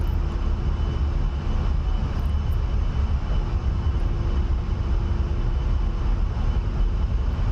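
An A-10 jet taking off in the DCS flight simulator gives a steady, loud, droning engine roar that stays constant and dense throughout, with no talking.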